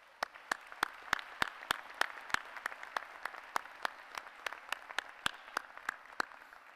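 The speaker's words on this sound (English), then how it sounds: "Let's give them all another round of applause." A commencement audience gives a round of applause, heard as a steady run of sharp, evenly spaced claps over a faint background wash, fairly quiet and distant.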